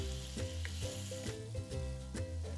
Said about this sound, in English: It just takes a few minutes to cook squid